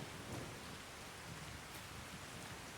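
Steady rain falls in the Farming Simulator 25 game world, a soft, even hiss of drops with no voices and a brief sharp burst right at the end.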